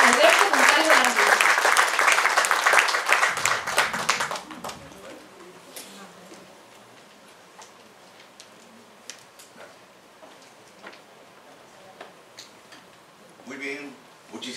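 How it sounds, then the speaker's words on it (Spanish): Audience at a Rotary Club lecture bursts into loud, dense applause to welcome a speaker, lasting about four seconds before dying away into quiet room noise and a few faint sounds. "Lo recibimos con un fuerte aplauso."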